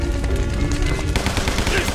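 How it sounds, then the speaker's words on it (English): Rapid automatic gunfire from a Tommy gun in the game Guns, Gore & Cannoli, a dense, continuous burst of loud shots running through the whole stretch over game background sound. "Beats the good old Tommy gun"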